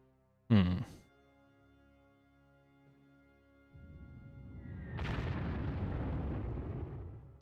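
Strategic bombing explosions in the wargame Panzer Corps during the invasion of France: one sharp, loud blast, then a quieter lull before a deep rumbling roar swells and holds to the end.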